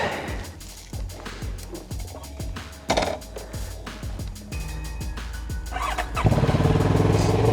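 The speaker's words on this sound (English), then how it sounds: "CFMOTO CLX 700 Sport. Yes, it's a pretty machine, eh? Let's give it a shot." A CFMOTO CLX 700 Sport motorcycle engine runs loud and close, revving in repeated rising bursts as it pulls away, then settling into a steady, heavier drone near the end.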